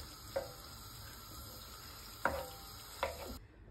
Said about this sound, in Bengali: এখন চালগুলা ভেজে নিব আমি, চালগুলা ভাজি তারপরে দিব।